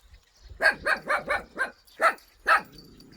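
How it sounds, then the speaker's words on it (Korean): Puppies yelp and bark in a quick run of about five close, high-pitched barks, then two more after a short pause, with a faint whimpering tone at the end. Heard near a Korean rural farm plot. "우리 새끼 강아지들"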